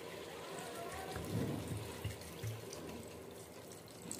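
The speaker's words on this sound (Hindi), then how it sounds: "इसी में पानी डाल लेंगे," Water is poured into a cooking pot of potato, pea and cauliflower vegetables, giving a soft, continuous splashing wash with a few louder gurgles, faint and close.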